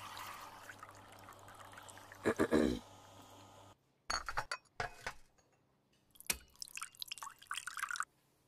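Water is poured while making espresso in the Nancy Drew: Mystery of the Seven Keys video game. Close clinks of glass and liquid splashing come in a few separate bursts with quiet gaps between them, with a voice talking intermittently.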